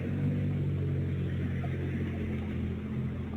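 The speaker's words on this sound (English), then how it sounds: "That car about loud as shit, bro." A loud Mercedes car rumbles in street footage, a low, steady engine drone with some revving texture, heard alone without talk.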